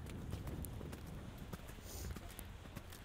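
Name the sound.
horse hooves clip-clopping during a riding lesson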